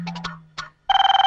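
A mobile phone ringtone goes off in a home. A few short beeping chirps are followed by a loud, rapidly pulsing electronic ring, close and clear, with no talking.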